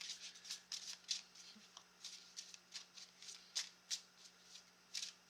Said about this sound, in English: So I'm going to do one of these spirit messages, these oracle cards for you.